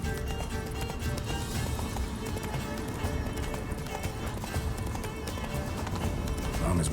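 Roach, the horse in The Witcher 3, gallops with a steady, continuous clip-clop of hooves over a dense game soundscape, loud and unbroken for the whole stretch.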